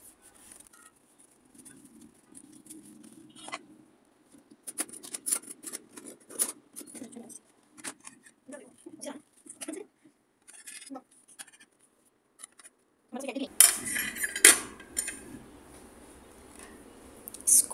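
Birthday brownies being served onto a plate, with soft scattered clinks, scrapes and taps of utensils against the dish, quiet and irregular, growing busier near the end.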